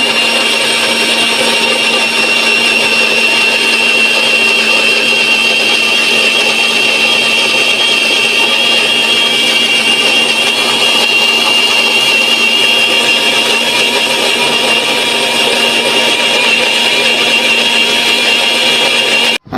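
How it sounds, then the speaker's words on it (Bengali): An electric blender grinds ginger and garlic in a village kitchen, giving a steady, loud mechanical whir that runs unbroken for about twenty seconds with no talking. "কম কম করে আদা রসুন আনা হয় আর কম কম করে ব্লেন্ডার করে রাখি"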